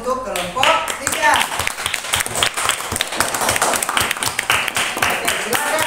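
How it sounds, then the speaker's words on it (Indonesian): A classroom breaks into applause for a student group, with many hands clapping in a fast, dense burst that continues steadily while voices are heard among it. "berikan aplaus untuk kelompok 3"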